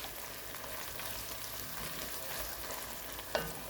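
Blended carrots, peppers and garlic fry in a pot with a close, steady sizzle and crackle, ending in one brief sharp clink near the end, with no talk.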